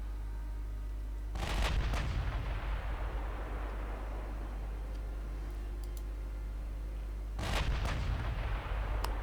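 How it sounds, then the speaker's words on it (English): Two deep booming salvos from a battleship's aft turret in the naval video game Ultimate Admiral Dreadnought, each rolling out over a constant low engine rumble with faint ticking between them. "Let's bring my aft turret into action."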